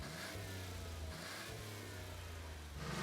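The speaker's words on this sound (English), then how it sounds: "As he smokes up the back wheels" A car doing a burnout on a Christchurch street, the engine revving hard and holding high as the rear wheels spin, loud and continuous throughout with a brief dip midway.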